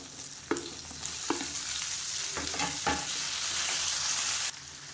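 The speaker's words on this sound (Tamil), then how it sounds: "அந்த வெங்காயத்தோட வாசனை வரணும் அந்த அளவுக்கு நல்லா வதக்கி விட்டுக்கோங்க" Chopped onions and tomatoes sauté in an oil-filled pan for a Chettinad-style egg curry, with a steady close sizzle broken by several sharp clacks and scrapes of a spoon stirring.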